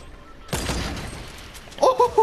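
A video game grenade goes off in a sudden loud burst with a rumbling, crackling tail that fades away. A short series of tonal beeps follows near the end.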